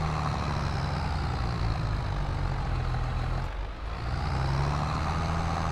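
A New Holland 3630 tractor engine pulling in gear in Farming Simulator 22, a loud, steady low diesel drone with a brief dip midway before resuming at full strength, no voices.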